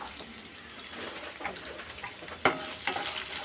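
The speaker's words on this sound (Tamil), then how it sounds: "பச்சை மிளகா சேர்த்து ஒரு வதக்கு வதக்கிட்டு ஒரு பீஸ் அளவு தேங்காய் கட் பண்ணி சேர்த்துக்கிறேன்" Green chillies and coconut sautéing in a pan, giving a soft, faint, steady frying sizzle with occasional light clinks and a couple of sharper utensil knocks, no voices.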